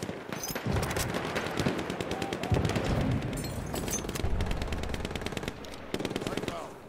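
Enemy machine gun fire in a Battlefield game on Hardcore Rush mode, rapid sustained bursts of automatic shots rattling continuously at close range with brief gaps, while voices talk over the gunfire.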